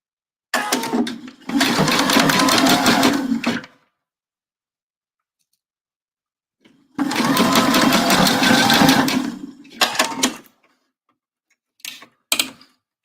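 A sewing machine stitches fabric coasters with mitered corners in two long runs of steady, fast mechanical whirring, then a few brief, clipped bursts of stitching near the end.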